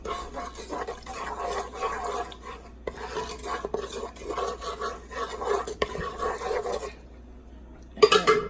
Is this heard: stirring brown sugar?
yes